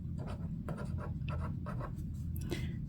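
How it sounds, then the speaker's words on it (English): Pen writing on paper while a monthly budget is worked out, steady soft scratching strokes in short bursts over a constant low background hum, close and quiet, with no talking. "So we'll go ahead and write the total for the bills."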